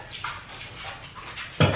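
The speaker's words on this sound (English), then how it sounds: "the dogs are going crazy" Dogs whimper and yelp intermittently indoors, with a louder, sharper burst near the end; there is no speech.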